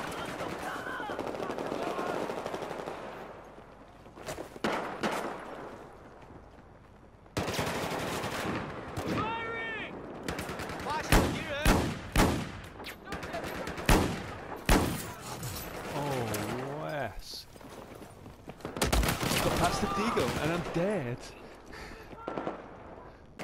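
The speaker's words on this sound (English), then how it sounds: "He shoots me from that distance with a deagle, one shot." Gunfire in the video game Battlefield 4 during a Gunmaster match: bursts of rapid shots and single loud cracks, clustered irregularly amid other game effects, with someone talking over parts of it.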